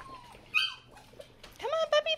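Puppies give high, thin whimpers and squeaky yelps, a short cry early and then a rapid run of pitched whines close up, with faint human voices in the background.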